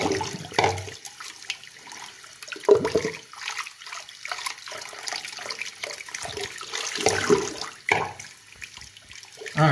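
A shaving brush being swirled and rinsed in water, with a series of close sloshing, splashing bursts separated by quiet pauses and some light dripping.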